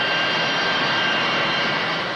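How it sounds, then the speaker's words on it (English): Jet roar from an Impala military jet plane with British Rolls-Royce engines, a steady loud broadband rush holding constant throughout, with no voices. "These Impala are Italian planes, produced here under special license. They're equipped with British Rolls-Royce engines"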